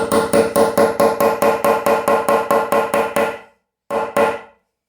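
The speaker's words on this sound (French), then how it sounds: "au marteau, je viens sertir l'œillet" A hammer crimps a metal eyelet into a fabric bucket bag: a rapid run of about fourteen sharp, evenly spaced knocks, a brief pause, then two more blows, close and loud.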